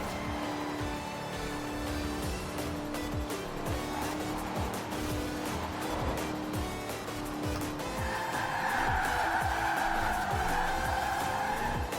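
Car racing in Forza Horizon 4, weaving through traffic for near misses: a steady engine roar with tire squeals and whooshing passes throughout, and a sustained horn-like tone rising toward the end.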